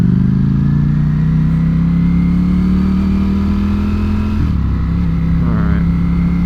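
A Ducati Panigale V4S motorcycle accelerating hard on a motorway, its engine note climbing steadily in pitch, then dropping sharply at a gear change before rising again, loud and close with heavy wind rush.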